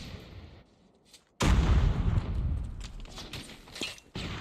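Gunfire in the Call of Duty Mobile video game: a quiet lull breaks into a loud burst of shots and rumbling blasts that continue unevenly with sharp cracks, with no voices heard.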